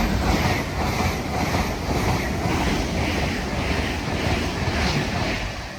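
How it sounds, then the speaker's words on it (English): An Avanti West Coast train passes through Nuneaton on the West Coast Main Line, a loud, rushing broadband roar with a rhythmic swell and wind buffeting on the microphone, heard alone without talk. "soon to pass through now will be a Adventure West Coast Avero unit going from London Euston to Chester"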